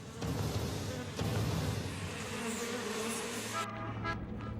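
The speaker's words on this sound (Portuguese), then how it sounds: "São os enormes enxames de gafanhotos que circulam sobre a cidade, querendo devorar tudo o que encontram." A huge swarm of locusts circles over a city, making a dense, continuous insect buzz that fills the air at a steady loudness and drops away abruptly near the end.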